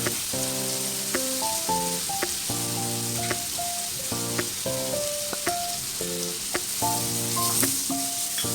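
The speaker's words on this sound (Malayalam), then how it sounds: "നമ്മുടെ സബോള നന്നായിട്ടൊന്ന് മിക്സ് ചെയ്ത് കൊടുക്കുക" Chopped onions fry in oil while being stirred, a steady close sizzle running beneath prominent background music with a clear melody.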